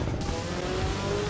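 Brief burst of a car accelerating hard in the Assetto Corsa EVO racing game, a close engine with a rising tone over a constant rumble.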